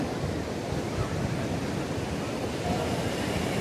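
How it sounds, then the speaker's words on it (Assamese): Sea waves surging and breaking on a beach near the Jagannath temple coast, a steady wash of surf at moderate distance, continuous and fairly soft, with no distinct speech over it. "কেতিয়াবা মাজতে মানে ইমান ডাঙৰ ঢৌ মাৰি দিয়ে"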